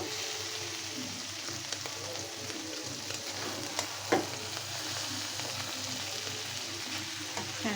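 Mixed vegetable bhaji sizzles steadily in a pan, a continuous soft frying hiss with occasional faint stirring clicks and no voices.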